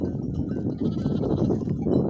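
Sheep bleating on a highland pasture, a flock of newly arrived sheep and rams calling in overlapping low, throaty bleats close by, continuous through the moment.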